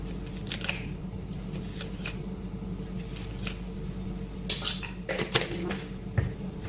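Sugar scooped into a mixture, a metal spoon clinking and scraping against a bowl in quick irregular taps over a steady background hum, close up with no speech.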